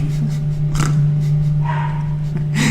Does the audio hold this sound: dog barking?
yes